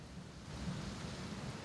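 Rain drumming on the steel roof of a warehouse, with thunder, as a steady broadband wash with a low rumbling swell that strengthens slightly partway through, moderately loud with no voices.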